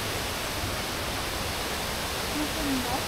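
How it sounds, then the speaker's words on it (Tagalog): A large waterfall passes on the ride toward Mt. Isarog, a dense, unbroken roar of falling water mixed with wind rush, steady and loud throughout. "Ayun na yung falls."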